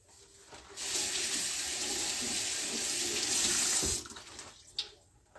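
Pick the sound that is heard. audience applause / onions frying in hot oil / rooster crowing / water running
water running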